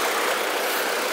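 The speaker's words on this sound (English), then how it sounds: "Let's take a look at the motor running on this 2002 Chevrolet Trailblazer" A 2002 Chevrolet Trailblazer LT with a 4.2-liter inline six runs in a steady, loud, unbroken engine drone for about a second, with no talking.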